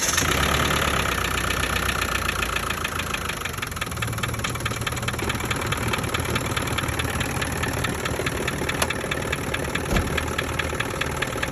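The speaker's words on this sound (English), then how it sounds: "As you can see, it has a nice low idle." 1997 Land Rover Defender 110 with a TDI turbo diesel engine idles close by, a steady, low, rhythmic diesel clatter with no talk over it.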